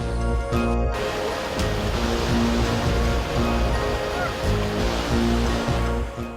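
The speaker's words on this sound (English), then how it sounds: "The rapids are actually looking good as well" Rushing river rapids pour steadily over a weir, a loud, dense and continuous roar of turbulent water heard up close, with no voices over it.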